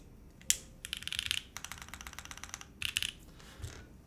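Bright, clicky typing on a mechanical keyboard with a hot-swap board, coming in quick bursts of crisp keystrokes separated by short pauses, close and fairly quiet.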